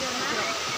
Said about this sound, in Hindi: मेरा झरना हो देख